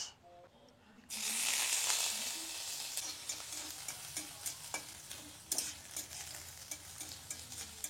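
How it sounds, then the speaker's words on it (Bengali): Sliced onions hit hot oil in a pan already holding mustard seeds and dried red chillies. A sudden loud sizzle bursts in after a quiet start, then settles into steady frying with rhythmic stirring scrapes. "আর এখন দিয়ে দেবো পেঁয়াজ।"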